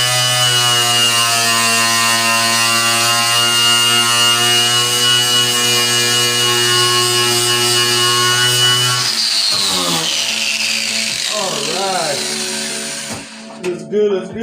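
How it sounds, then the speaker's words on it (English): A small Hercules electric grinder working on a 1977 Datsun B210 during a welding repair, a loud steady whine that holds for several seconds and then wavers and winds down as the tool is eased off. "We got a little grinding going on over here."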